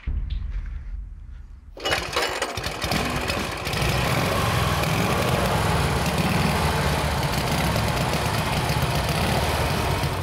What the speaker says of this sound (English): I want to hear this thing run.